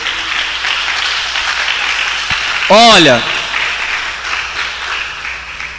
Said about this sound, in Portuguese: Pronto, pode aplaudir a Deus.